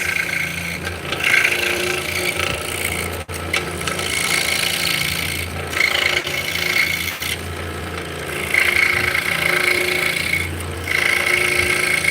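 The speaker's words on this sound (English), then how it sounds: "So now we're just cutting out the inside mortise." A tool cuts out the inside of a wooden mortise in a workshop, making continuous harsh rasping and grinding with short pauses between passes, loud and close throughout.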